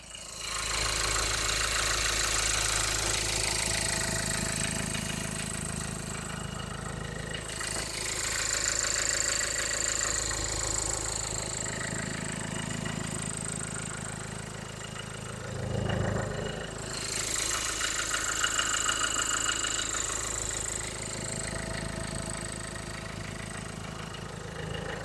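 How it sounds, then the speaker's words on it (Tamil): A 2013 Renault Pulse diesel engine idles steadily close by, a low rumbling drone with a faint clatter that stays even throughout, with no voices. "இப்போ இந்த வண்டியோட இன்ஜின் சவுண்ட் எப்படி இருக்குன்றத மைக்கை பக்கத்தில் வச்சு காட்டிடுறேன்."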